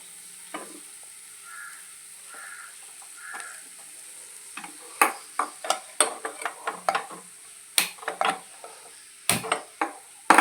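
Sardines being laid into a hot oiled pan, a soft steady fry at first, then sharp crackling pops and spits that grow more frequent and louder as more fish go in, close and without voices.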